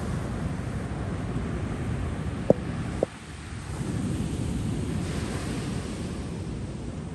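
Ocean surf washing steadily on a calm, windless morning at a beach resort in Costa Mujeres, a continuous broad rushing hiss with two brief sharp knocks partway through.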